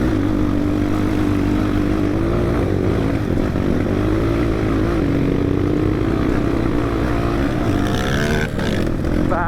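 A motorcycle engine drones loud and close on an off-road dirt trail in south Lalitpur, a steady rumbling roar with slight shifts in pitch as it labors along.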